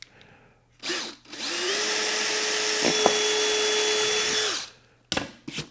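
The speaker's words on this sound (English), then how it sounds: "And just drill through." A power drill boring a pilot hole to mount a saddlebag puck in a garage, one sustained high whine lasting several seconds after a short opening burst, then a couple of brief blips at the end.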